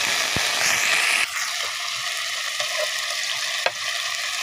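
Soaked dried shrimp hit hot mustard oil in a kadai with a loud, steady hiss that settles to a softer sizzle, while a few sharp spatters and stirring clinks punctuate it up close.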